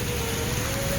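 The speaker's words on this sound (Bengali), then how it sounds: "ভালোই বৃষ্টি এইদিকে" Steady rain falls along a route, a dense, even hiss with low rumble throughout, moderately loud and continuous with no voices.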